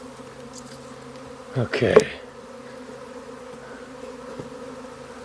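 A honey bee swarm in a beehive setting: a steady low buzzing drone throughout, moderately close, with a brief clatter of handling noise and a short spoken word over it.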